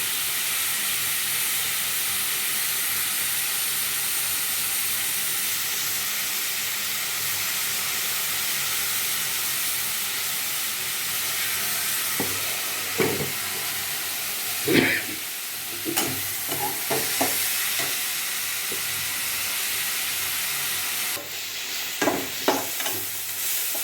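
Sliced onions sauté with salt in a pan, giving a continuous soft sizzle and hiss. Scattered clinks and scrapes from a stirring utensil come in the second half, with no voices.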